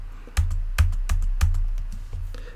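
Keys struck on a computer keyboard while entering a command, a handful of distinct close clacks in an uneven rhythm with a few heavier presses, alone without talk.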